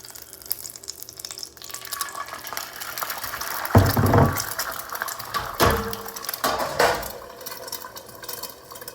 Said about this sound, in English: We'll slip the egg in and see what happens.